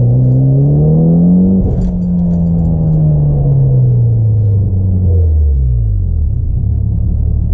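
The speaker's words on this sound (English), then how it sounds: "give it a little gas for you guys so you guys can hear the noise inside the car" A loud, steady engine and exhaust drone at wide open throttle heard from inside a Mitsubishi Evo X with a Tomei exhaust, its pitch slowly sliding downward, with a faint rattle and no talking.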